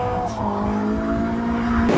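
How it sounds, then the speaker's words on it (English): A Nissan 180SX drift car sweeps through a high-speed corner at a competition, its engine droning loud and steady with tire squeal and skidding running throughout, swelling near the end. "Wong in his Endless 180SX, a very technical driver, very smooth through the sweeper, great angle, very high speed"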